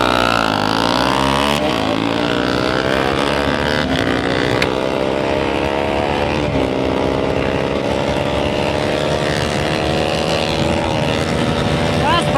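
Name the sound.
motorcycle launching and accelerating in a drag race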